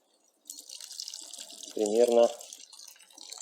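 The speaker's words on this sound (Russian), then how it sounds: "Надо еще чуть-чуть добавить воды." Boiled water from a kettle poured onto rice in a kazan, a steady close splash and trickle running throughout with a brief deeper gurgle midway, under a short spoken word.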